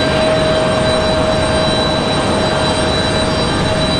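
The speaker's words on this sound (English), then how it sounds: "you got the 777 there on the right of your screen" Boeing 777 jet airliner at Raleigh-Durham International Airport, a loud, steady broadband engine roar with a sustained whine, continuous throughout and close by, no voices.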